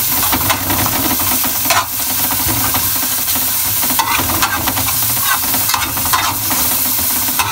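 Garlic and onion sautéing in a pan for chicken wing sinigang, a steady close sizzle and hiss with intermittent stirring scrapes running throughout.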